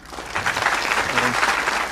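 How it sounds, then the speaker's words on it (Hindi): Audience applause fills a talk hall, a steady dense patter of many hands clapping continuously at moderate loudness throughout. "ये ताली किसके लिए बज रही है?"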